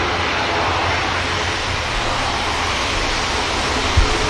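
An EasyJet airliner touches down on runway 23 right at Manchester Airport, a steady broad engine and air roar throughout with a brief low thump near the end.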